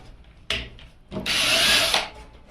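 A power drill fitted with a nail as a bit runs in a short burst, then bores for about a second with a steady, loud whine that stops abruptly.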